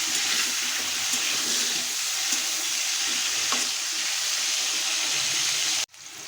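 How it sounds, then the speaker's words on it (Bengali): Potato pieces fry in oil in a pan, giving a loud continuous sizzle with faint stirring scrapes before cutting off abruptly near the end. "আলুগুলো একটু ভেজে নেব।"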